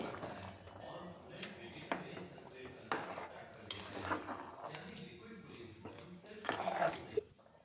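A spoon scrapes and clinks against a pot as washed rice is stirred into boiling water for chicken palak biryani, irregular metallic knocks and scrapes close by, with a voice talking over them.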